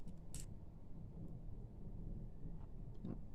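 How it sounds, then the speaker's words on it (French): Low thunder rumbling through the evening storm outside, a steady deep roll under faint rain, carrying on for several seconds without any talk. "Ah, on entend le tonnerre."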